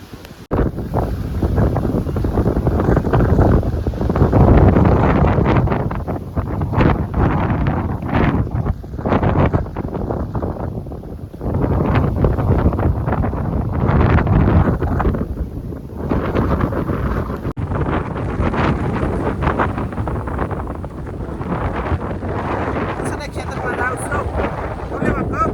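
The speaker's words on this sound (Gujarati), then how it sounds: "તોફાન વાવાઝોડું કંઈ ન રહેવા દે પવન" Strong storm wind buffeting the microphone in loud, roaring gusts that rise and fall throughout, with a voice speaking over it.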